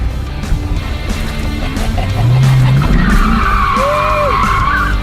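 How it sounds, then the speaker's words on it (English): A C5 Corvette engine revs hard and close at full throttle with traction control on, then tires squeal in a long skid, with the engine pitch rising and falling as it accelerates. "I'm gonna have to floor this car"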